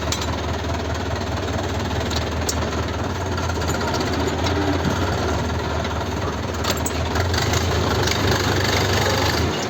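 A tractor engine runs continuously nearby during fertilizer spreading, with a loud, steady chugging rumble that holds for the whole stretch.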